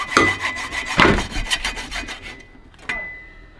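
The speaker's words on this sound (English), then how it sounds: "now you first gotta saw through the rubber and then through the metal." A hand saw rasping back and forth through the rubber and metal of a Ferrari 360 transmission mount, uneven close strokes that thin out and stop, followed by a single sharp metallic tap and its short ring.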